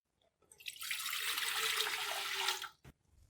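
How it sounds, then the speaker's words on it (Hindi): Two glasses of water pour into a cooking pot set up for steaming chicken, a steady splashing rush lasting about two seconds, close and fairly loud, then a brief knock as it stops. "अब हम स्टीम करने के लिए एक पतीला लेंगे। इसके अंदर हम पानी डाल देंगे 2"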